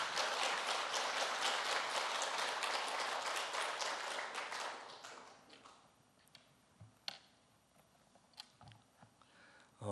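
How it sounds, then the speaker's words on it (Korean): A church congregation claps together to welcome the pastor at a Sunday service, dense, loud applause for about five seconds that thins out into a few scattered claps and small sounds. "우리 박수로 환영해 주시기 바랍니다."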